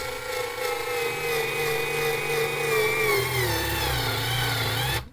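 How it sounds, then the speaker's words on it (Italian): Aleapow mini cordless electric screwdriver fitted with its angle attachment drives a screw, a steady close motor whine with a shifting pitch that runs continuously for about five seconds before cutting off abruptly. "Utilizzando invece l'accessorio specifico potrei mettere la vite in questo modo e dopodiché avvitare senza alcun problema."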